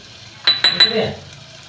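Onion and tomato with red chilli powder, turmeric and salt frying and being stirred in a pan, with a few sharp scraping stirs and a soft sizzle settling underneath, close and fairly loud.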